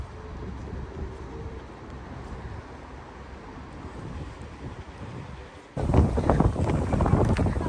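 Strong wind buffeting the microphone outdoors at the Diaolou fortified houses in Kaiping, Guangdong, a constant loud rushing roar that swells harder and rougher near the end.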